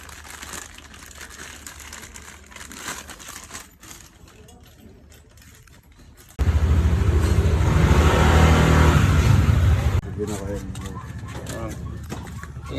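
A motorcycle engine revs loudly through an aftermarket Akrapovic exhaust pipe in a single sustained burst of several seconds, rising over quieter background noise, with people talking before and after in a Manila setting.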